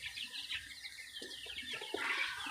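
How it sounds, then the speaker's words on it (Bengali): Native village chickens at a farm with incubators, clucking softly and continuously at close range, with a slightly busier burst of calls near the end and no talking. "এখানে দেশি মুরগি রয়েছে"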